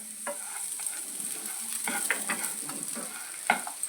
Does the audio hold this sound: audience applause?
no